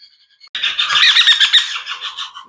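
Sun conure chicks give a loud, close, harsh raspy chirping call that starts abruptly and holds for about two seconds, fading at the end, with faint chirps just before.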